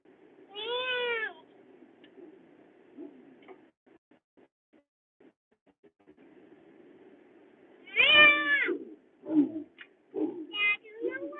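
A cat gives two clear, drawn-out meows several seconds apart, near and fairly loud, with quiet ticking and brief muffled sounds around them.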